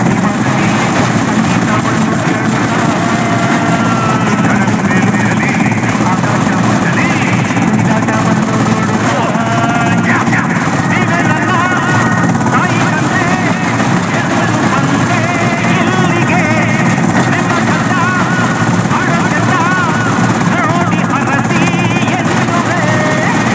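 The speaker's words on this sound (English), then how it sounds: "Secret Service coming in by helicopter." A helicopter's heavy rotor thrum in Grand Theft Auto: Liberty City Stories roars steadily and loudly throughout, with voices talking beneath the constant noise.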